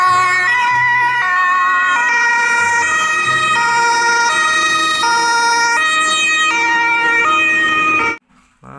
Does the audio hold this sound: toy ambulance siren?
yes